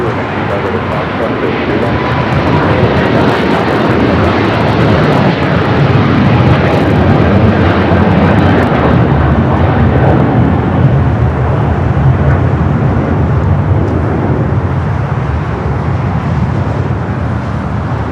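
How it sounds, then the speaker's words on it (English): An American Airlines Boeing 787-9 Dreamliner arrives at LAX on the south side, its engines producing a loud, sustained rumbling roar that holds steady throughout with slight swells. "It's the Dreamliner arriving here on the south side."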